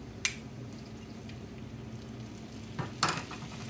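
Wine hits softened garlic in a hot pan, a short burst of sizzle at the start and another louder hiss near the end over a quiet background.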